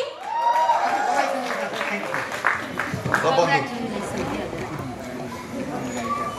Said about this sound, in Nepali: यहाँको लागि पूर्ण सबैजनाको भोटिङ सहितको ताली।